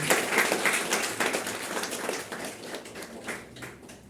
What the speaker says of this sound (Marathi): जरा जोरदार टाळ्या वाजवून त्यांचं आपण स्वागत करूया.